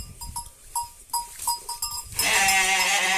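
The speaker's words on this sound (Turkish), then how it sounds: "Kuyunun içine kuzu kaçmış." A lamb trapped down a well bleats in short, repeated calls with a hollow, echoing quality, then a louder, sustained bleat takes over near the end.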